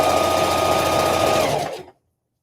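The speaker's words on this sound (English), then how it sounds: "Okay, so I'm just gonna sew this down nicely. I'm just gonna put one stitch." A sewing machine stitches a tote bag seam in one steady, fast, continuous run up close, then stops abruptly, with no talking.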